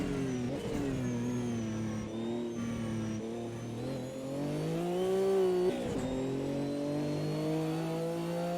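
A Corvette race car in a multiclass race pulls away down the straight, its engine note climbing steadily and loud and close as it accelerates hard, with a brief dip in pitch and then a higher, stronger surge.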